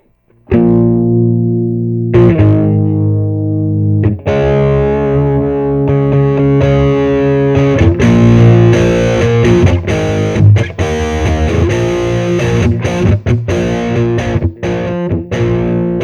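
Electric guitar played through an Aileron tube amplifier with overdrive engaged, loud distorted sustained chords and riffs ringing continuously after a short silent start, with no talking.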